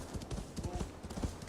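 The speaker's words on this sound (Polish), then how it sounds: "To wsiadamy naszego konia." A horse gallops in Assassin's Creed Valhalla, its hooves striking in a quick, steady, close rhythm of thuds throughout.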